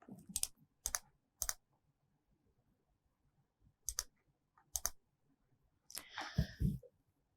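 Short clusters of key clicks from someone entering details into a web form on a computer keyboard, separated by quiet gaps, ending in a longer, louder flurry of tapping; no speech.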